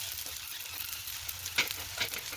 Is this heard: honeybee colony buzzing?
no